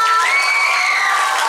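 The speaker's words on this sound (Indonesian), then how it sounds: "Beri tepuk tangan yang meriah." A loud, brief crowd of students cheers and shouts with high, sustained voices for student council candidates at a school debate, the sound filling the space close and continuous.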